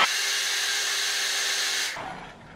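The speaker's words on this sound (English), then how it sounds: "I basically just heat the eyelash curler up with a hairdryer just for a couple of seconds" A hairdryer blows with a loud, steady close whoosh for a couple of seconds while heating an eyelash curler, then cuts off and its motor winds down.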